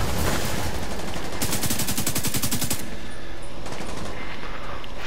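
Machine gun fire in The Division 2 rattles in rapid, loud bursts, a long evenly spaced string of rounds followed by a shorter burst over constant battle noise.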